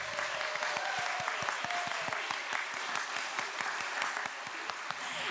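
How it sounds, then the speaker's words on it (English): A church congregation at a Children's Sunday service applauds warmly, a dense, steady patter of many hands clapping together, sustained at moderate loudness throughout with no talking. "Let's give them all one big round of applause."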